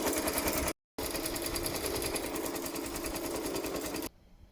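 A Rainbow embroidery machine stitches a test pattern with a rapid, steady mechanical chatter. The chatter cuts out briefly, resumes, then stops, leaving a faint hum.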